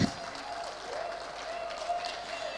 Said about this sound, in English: Let's keep clapping until she reaches the stage.